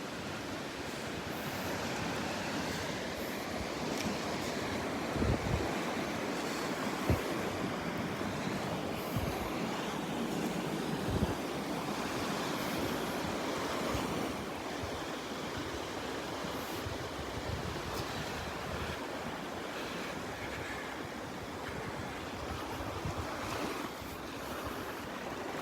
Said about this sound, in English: A little breezy up here. A little breeze here when I get out in the open.